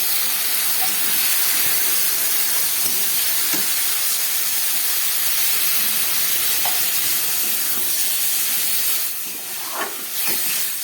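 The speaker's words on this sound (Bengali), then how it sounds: "এবার জল দিয়ে দিচ্ছি" Water poured into a hot pan of Bengali curry with ground mustard, chili and turmeric, giving a broad steady hiss of steam and sizzle for about nine seconds, then a few sharper crackles and a louder burst near the end, with no talking.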